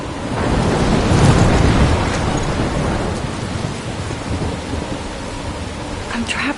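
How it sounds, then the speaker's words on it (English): A loud thunder rumble rolls close in the video game Life Is Strange, swelling and then fading into steady heavy rain that pours on alone to the end. "I'm trapped in a storm?"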